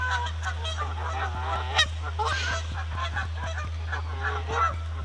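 Geese at a fishing lake keep up a chorus of honks, some near and some farther off, over a steady low hum and scattered small knocks.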